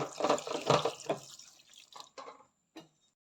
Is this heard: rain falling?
no